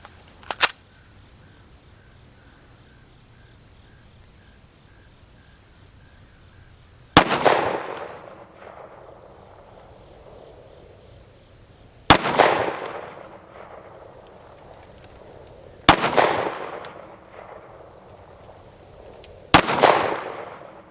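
A Canik Mete SFT pistol fires at a shooting range: four loud, sharp single shots spaced several seconds apart, each with a short echoing tail. A faint click comes early on, and nobody speaks.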